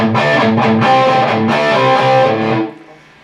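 Distorted electric guitar plays an interlude riff, a loud run of chugging notes and chords for a few seconds before ringing off into quiet.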